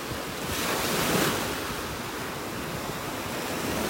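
Surf washing up onto a Gulf beach in North Naples, Florida, shells tumbling in the wash; a steady broadband roar of waves with a swell near the middle, close and fairly loud, wind buffeting the microphone.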